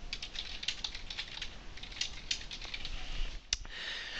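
A computer keyboard being typed on in an office setting, a quick, steady patter of soft keystrokes up close with a brief pause near the end.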